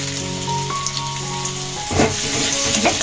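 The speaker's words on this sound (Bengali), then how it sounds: "তেলে ভেজে নিতে হবে।" Chopped garlic and ginger fry in hot oil for a Bengali cauliflower manchurian, giving a steady close sizzle and crackle with a few spattering bursts toward the end.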